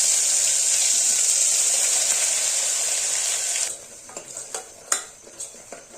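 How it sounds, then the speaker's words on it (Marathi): Masala paste sautéed in oil with mustard seeds and asafoetida for a chickpea and spinach dish gives a loud, steady sizzle that cuts off abruptly, leaving a few faint clinks and scrapes of a spoon in the pan. "छान तेल सुटेपर्यंत त्याला परतायचं"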